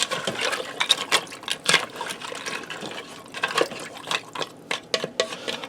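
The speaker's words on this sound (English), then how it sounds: "Let me give that a stir and see how it looks." Water being stirred into pasta inside a pressure cooker, with repeated sloshing and liquid swishes, close and moderately loud, in irregular bursts throughout with no talking.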